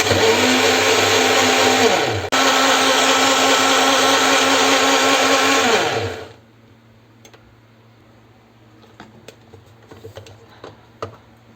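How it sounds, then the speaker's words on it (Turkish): A blender whirs loudly and steadily, briefly dipping and spinning back up, then winds down and stops, leaving quiet with a few small clicks and taps. "daha sonra blenderdan geçirip suyunu alacağız."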